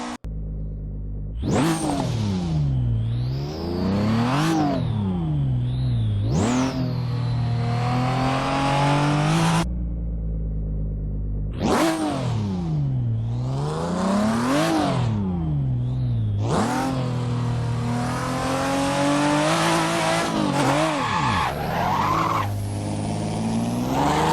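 A Japanese race car engine in the Assetto Corsa video game revs hard through repeated rising and falling sweeps, shifting gears and roaring loudly, with a brief pause midway and no talk.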